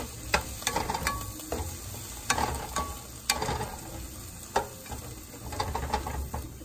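Broccoli sizzles in a pan after liquid is added, a continuous close frying hiss broken by repeated scraping clicks of a utensil stirring, with no speech.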